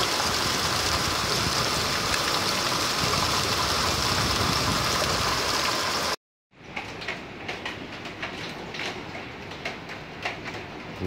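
Hailstorm pounding a house in August: a loud, steady broadband roar from outside, then a sudden cut to a muffled indoor mix of dense irregular thuds and patters on the roof.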